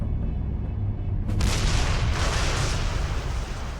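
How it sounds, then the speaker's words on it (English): Heavy booming explosions from bombs dropped during a World War II air raid, a deep sustained rumble that swells into a loud, dense roar. "Other aircraft dropped incendiary bombs."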